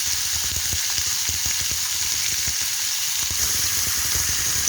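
Chicken steak sizzles steadily on a hot grill pan, a dense, even crackle of frying that runs loud and close throughout with small pops and no voices.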